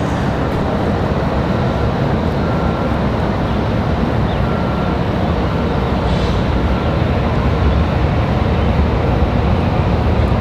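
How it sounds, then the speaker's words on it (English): An American Airlines Boeing 737 in Oneworld livery taking off at Raleigh-Durham International Airport, a loud, steady broadband jet roar that holds without letting up. "So the American One World 737 out of here."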